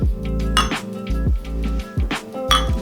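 Beer glasses clink together in a toast during a craft beer tasting, with several bright, close chinks over a continuous low tonal background.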